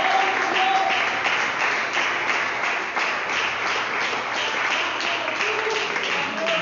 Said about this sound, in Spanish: Y ese aplauso es para el Señor. Déselo fuerte, mi hermano